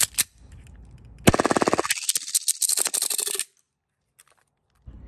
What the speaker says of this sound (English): testing which of my full auto gas blowback pistols has the best grouping